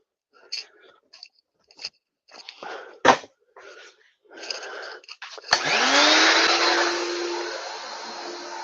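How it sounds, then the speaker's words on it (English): A vacuum cleaner starts up after some scattered clatter and brief speech sounds, then runs steadily and loudly close by while cleaning small grooves in a board. "Let's take the vacuum to it. It's gonna get loud, guys."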